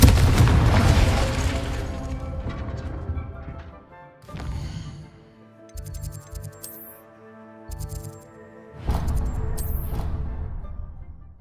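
A Confringo blasting spell explodes in Hogwarts Legacy with a loud booming burst, followed by a quieter stretch of clanks and musical tones and a second strong blast near the end. Game music plays underneath.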